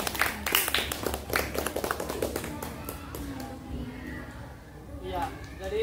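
Schoolchildren clap during a primary-school floor gymnastics lesson, a quick burst of close, uneven claps under a teacher's voice that fades as talking continues.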